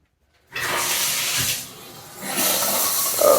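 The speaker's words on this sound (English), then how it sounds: "you can see the shower head is working" A newly installed shower head kicks on with a sudden steady hiss of running water, dips briefly as the spray changes, then surges again, loud and close, with no talking.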